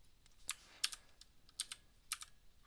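Sparse keystrokes on a computer keyboard during a coding and bug-fixing session, about eight soft, close clicks in irregular small clusters with quiet pauses between them and no voices.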